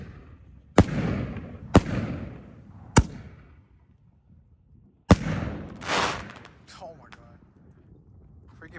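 4-inch coconut firework shells bursting overhead in a series of sharp, booming reports with crackling tails, four main bangs spaced a second or two apart, while people talk quietly in the background.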